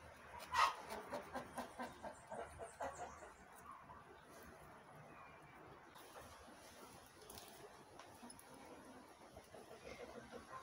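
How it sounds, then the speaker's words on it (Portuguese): Backyard hens cluck in a quick, fading burst of calls, faint and somewhat distant, followed by low ambient outdoor noise with no talking. "Minhas galinhas estão de zoeira aqui."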